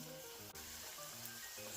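Pumpkin potato pancakes fry in heated oil over medium heat, giving a faint, steady sizzle with a soft crackle, close by and quiet, with no talk over it.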